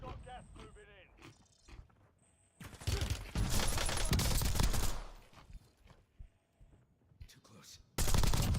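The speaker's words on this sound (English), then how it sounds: "That airstrike means they know I'm here." Heavy explosive blasts and gunfire from an airstrike in the video game Call of Duty Warzone Resurgence, loud dense bursts of several seconds, then a quieter stretch, then another loud burst at the end.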